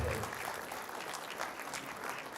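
Teachers at an awards ceremony clap together in a soft, distant, steady patter for a couple of seconds, with a faint murmur of voices under it.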